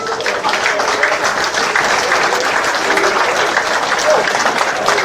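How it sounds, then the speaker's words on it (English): A seminar audience at a Green Bay muskie fishing talk gives a warm round of applause: a loud, continuous roar of many clapping hands that lasts the full five seconds. "let's give him a warm round of applause"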